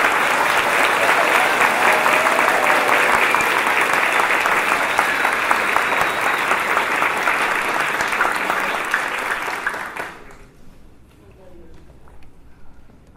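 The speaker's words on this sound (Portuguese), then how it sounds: "A este querido companheiro pedimos também uma salva de palmas." Audience applause at a Bahá'í community gathering in São Caetano do Sul, a dense, loud, sustained clapping from many people that fades out abruptly after about ten seconds, leaving near silence.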